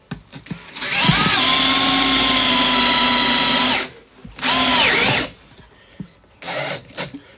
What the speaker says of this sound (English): So I'm just screwing this into the box.